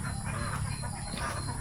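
Native chickens on a duck farm in Hagonoy, Davao del Sur, cluck in a continuous busy flock chorus, close and dense against farmyard noise, with no talking.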